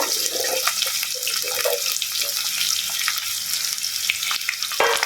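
Moringa drumsticks tumble into a pan of frying onions with green chilies and curry leaves, sending up a loud, steady sizzle with stirring scrapes and watery crackle throughout.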